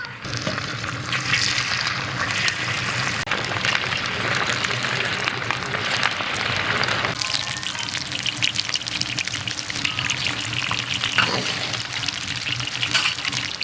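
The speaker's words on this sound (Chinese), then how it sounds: "油温5成热，下入鱼块炸" Carp pieces coated in batter deep-frying in moderately hot oil, producing a loud, dense, continuous sizzle and bubbling close up, with a voice talking over it part of the time.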